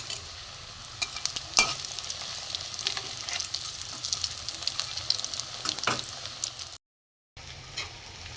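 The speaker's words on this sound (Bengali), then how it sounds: "এপিট ওপিট করে লাল করে ভেজে নিতে হবে" Stale bread cutlets fry in a pan of hot oil, a steady close sizzle with scattered crackles and pops, turned over now and then, with a brief cut to silence near the end.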